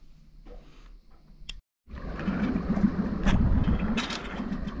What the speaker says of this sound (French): J'ai mis le moteur tout doucement, histoire de passer, de pas réveiller tout le monde.